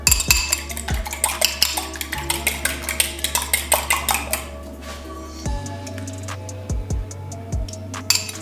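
Raw shrimp and two eggs being mixed in a bowl, a rapid rhythmic series of utensil clinks against the bowl, close and crisp, pausing midway then resuming in slower taps.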